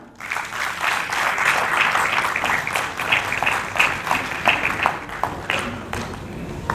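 Audience applause at a Hindi storytelling stage event, dense continuous clapping from a crowd that swells early and gradually thins toward the end.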